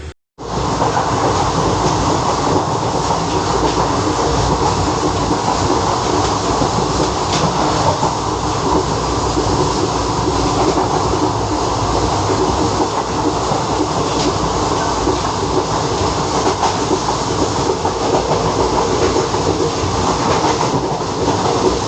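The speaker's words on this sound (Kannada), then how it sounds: "ನೋಡಿ ಯಾವುದೋ ಟ್ರೈನ್ ಅರೈವಲ್ ತೊಗೊತದೆ." A passenger train on the Hubballi to Hyderabad route runs along the rails with a loud, steady rumble and rolling clatter that fills the whole stretch, with no voices.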